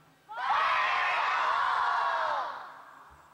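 A crowd at an oil-well nitro show yells a loud, sustained warning shout in unison, swelling abruptly and holding for about two seconds before fading out.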